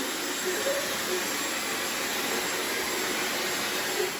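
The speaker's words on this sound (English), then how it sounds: "Or if you really want to speed it up, we can use a hairdryer." A hair dryer blows continuously with a loud, steady broadband whoosh and hiss, unbroken throughout, drying flowers during a children's science festival demonstration.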